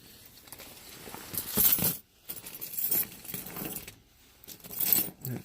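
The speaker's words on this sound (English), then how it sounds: "Got quite the amount of keys here." A large bunch of car keys jangles close by in two or three shaking bursts, bright metallic clinking that swells and fades between brief quiet gaps.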